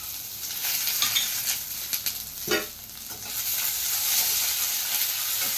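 Onion, coriander, peanuts and green chillies fry in half a tablespoon of oil in a pan for egg curry, giving a steady close hiss and sizzle with a few soft scraping stirs.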